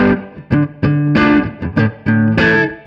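Electric guitar playing the rhythmic verse riff of a song through effects pedals with reverb off, short choppy chords and single notes with crisp, dry stops between them.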